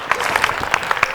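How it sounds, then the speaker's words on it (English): Scattered audience applause at a national local government service delivery conference, a brief burst of sparse individual claps with crowd noise, fairly close and moderately loud. "Give Kwatuguza a round of applause."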